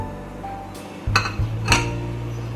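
Shallow-fried paneer pieces tipped into a pan of Pahadi paneer curry and stirred, giving a few sharp clinks of a spoon against metal over a low steady hum.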